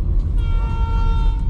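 A train horn sounds in one loud, steady, sustained blast from close by.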